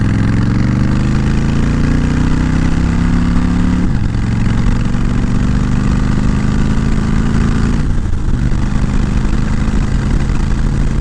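A Honda Fury motorcycle idles in neutral up close, its loud, steady low rumble running throughout with two brief dips in pitch.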